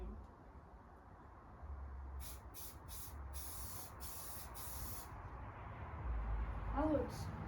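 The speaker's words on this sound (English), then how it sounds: "Spray that whole line." Short bursts of aerosol spray paint hiss onto a turkey gun during a DIY greenleaf camo job, several quick sprays followed by a longer steady one, fairly close, over low background rumble.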